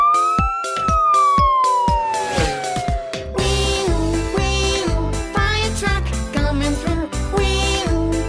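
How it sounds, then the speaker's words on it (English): Fire truck siren from a children's nursery song, a long wailing tone that slides downward at first, then continues steadily over a bouncy music backing with a regular beat. "It's a siren, that's what it is."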